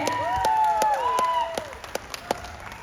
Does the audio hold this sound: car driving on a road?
no